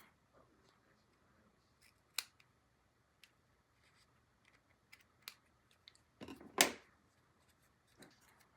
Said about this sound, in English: this way I can just snip off what we don't need